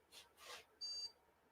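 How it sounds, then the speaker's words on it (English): A home-lab computer gives a single short electronic POST beep while booting, a thin steady tone lasting about a quarter second after some soft handling noise, faint and close with no talk. "I heard our beep, so we got post."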